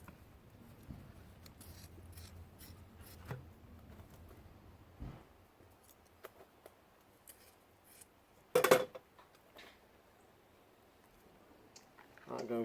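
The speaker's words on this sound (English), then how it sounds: "Cut yourself another piece," Scissors snip a piece of fibreglass for a roof light repair in quiet, scattered cuts with pauses between them, joined by soft handling clicks and one louder rustle.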